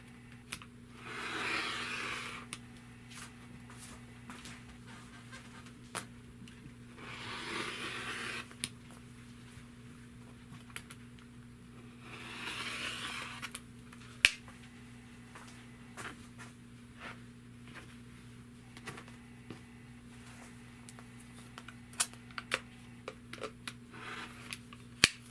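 Quilt fabric edges on a jelly roll quilt-as-you-go border are trimmed along a 12.5-inch ruler, giving three separate close scraping cutting passes with scattered small clicks and taps between them in a quiet room.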